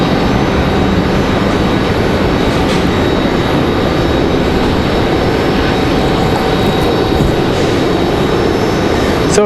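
Jet airliners land at Raleigh-Durham airport in a west crosswind, heard as a loud continuous roar of engines and rushing air, broad and steady throughout with no talk.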